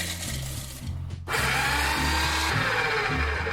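A blender grinds soaked almonds into powder with a loud whirring motor, lower at first and then stepping up to a louder, steady roar after a brief pause.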